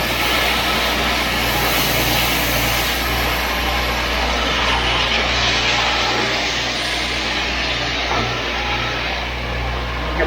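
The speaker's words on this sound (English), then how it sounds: "So I'll just soften it out on the belt sander." A belt sander smooths and rounds the edge of a wooden piece, giving a steady, loud motor drone with a constant low hum that runs unbroken throughout.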